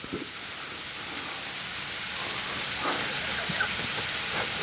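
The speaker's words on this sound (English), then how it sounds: "it's sizzling away nicely" Continuous hissing sizzle of food frying, steady and close, with a few faint crackles and distant voice fragments underneath.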